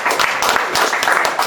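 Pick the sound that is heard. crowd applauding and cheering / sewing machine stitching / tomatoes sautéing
crowd applauding and cheering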